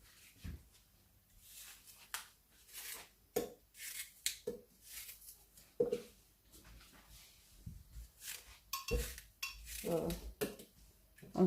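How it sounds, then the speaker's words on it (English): A knife taps sharply against a cutting board in irregular strokes while lemon, apple and beetroot are diced into cubes for a fruit smoothie, the close, faint cuts separated by brief pauses. "I'm cutting that into cubes."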